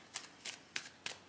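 Tarot cards being riffled and shuffled by hand, four quick papery bursts at an even rhythm, close and fairly quiet with no talking.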